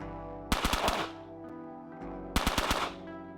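Rapid-fire gunshots in the video game Quasimorph, heard as two short automatic bursts about two seconds apart, each a quick string of sharp cracks with a faint ringing tail between them.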